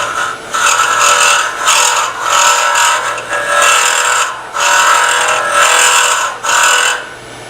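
A woodturning gouge cuts into redwood burl spinning on a lathe, producing a loud, rough scraping and chattering in repeated passes with brief pauses between them.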